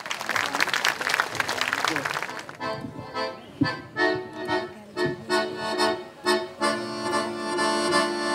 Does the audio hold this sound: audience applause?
yes